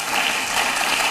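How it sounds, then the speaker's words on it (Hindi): A studio audience applauds steadily for an honoured guest during a television interview, a dense, even wash of clapping that holds on briefly with no talking over it. "तालियां बजती रहनी चाहिए कुछ मिनट तक"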